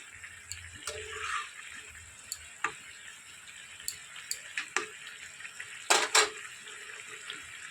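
Small fish frying in a pan with boiled vegetable stalks for a Bengali chochchori give sparse, quiet sizzles with scattered sharp crackles and pops, a louder double pop near the end.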